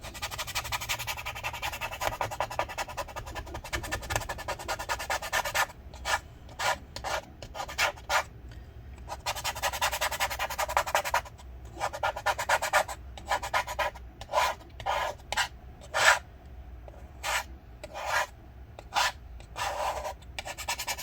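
Adhesive residue is scraped off the casing of a 13-inch MacBook Pro A1502 (early 2015) during a battery repair, first as a long continuous rasp, then as quick repeated strokes, close up and with no talking.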